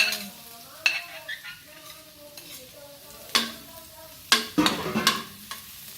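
Garlic sautéing in a pan as the first step of ginataang papaya, with a steady sizzle broken by several sharp stirring scrapes and clinks of a utensil against the pan, close and fairly loud.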